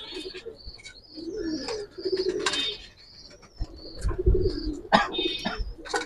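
Large heavy pigeons coo repeatedly at a pigeon farm, soft throaty calls rising and falling close by, with occasional chirps and a brief flutter of wings between them.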